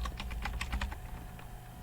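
Code being typed on a computer keyboard, a close, brisk patter of light key clicks in an uneven rhythm, with no one speaking.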